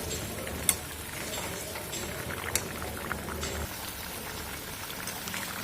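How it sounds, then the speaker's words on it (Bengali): Cabbage dhoka curry simmers in a pot, a steady low bubbling and hiss with a few sharp pops and spits, close and continuous with no talking. "কিছুক্ষণ ফুটিয়ে নেব।"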